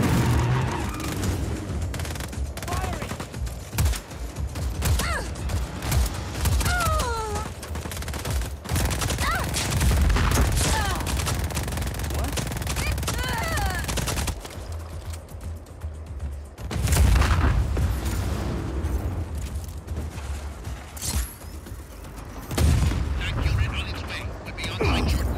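A tank rolls in and fires in the open-world action game Just Cause 4, heavy booms and volleys of gunfire erupting repeatedly over a rumbling, busy battle soundscape.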